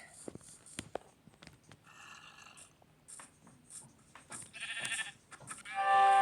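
Sheep bleat several times amid soft clicks and footstep-like taps, growing louder toward the end, with game-like background noise and no talking.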